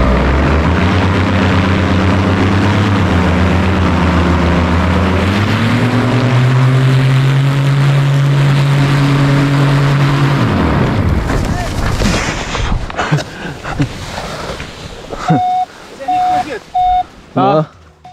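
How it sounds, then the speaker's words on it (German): A tandem paramotor engine revs up loudly during a foot launch, its droning pitch rising and holding steady before cutting away to wind, rustling and short beeps as people talk. "ich starte gerade, gebe Gas im Motor, ziehe den Schirm auf"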